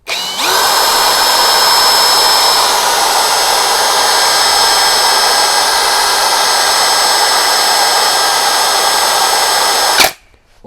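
A cordless drill whirs up and spins steadily at high speed for about ten seconds, loud and close, then stops abruptly.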